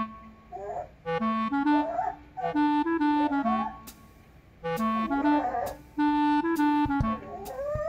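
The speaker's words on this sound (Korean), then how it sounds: "꼭저 자리에서 낑낑거려, 달라고" A dog whines repeatedly in high, drawn-out whimpers, coming in several close bursts with short pauses between.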